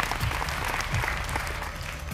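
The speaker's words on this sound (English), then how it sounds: "That's a scared clap." A small group on a reality dating show claps in a thin, uneven patter, with scattered individual claps audible over a murmur of voices and background noise.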